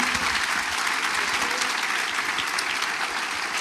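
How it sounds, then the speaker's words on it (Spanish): A church congregation breaks into loud sustained applause, many hands clapping in a thick, even wash that continues without pause or talking. "Un aplauso a Cristo."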